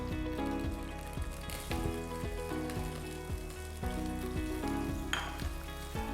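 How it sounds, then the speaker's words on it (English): Grated coconut sautéing in sesame oil in a pot over a medium flame for a South Indian chicken Chettinad, giving a steady, dense sizzle close up with occasional stirring scrapes and no voices. "And I'll have to saute the coconut till it turns brown in color."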